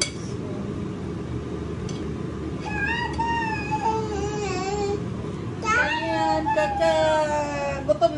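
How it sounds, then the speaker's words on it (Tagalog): Several cats meow repeatedly, rising and falling calls close by, over a steady bed of chatter and clinking dishes at an outdoor family meal with grilled pork. "Ang daming pusa."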